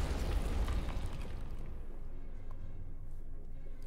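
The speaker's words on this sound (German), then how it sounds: "Ich schieße mit Ratten, die explodieren." A loud, rumbling explosion from exploding rats fired out of a gun in a video game, a heavy boom that gradually fades into a lingering low roar, with no talking.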